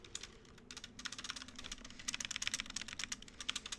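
Quick clatter of keys on a computer keyboard as a command is typed, a steady run of light clicks that grows denser and louder toward the end, with no voices.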